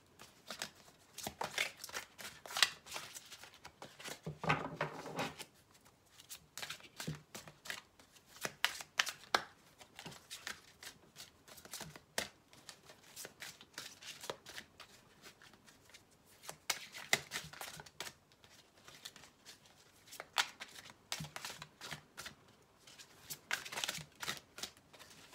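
Tarot cards shuffled by hand for a love reading, repeated bursts of close papery riffling and slapping separated by brief pauses, moderately quiet, with no voice over the shuffling.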